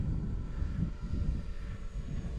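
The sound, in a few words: drone flying overhead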